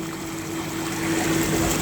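Motor pump supplying water to a fish pond runs steadily with a constant hum and a strong tonal drone, accompanied by rushing, trickling water throughout, fairly close and alone without talk.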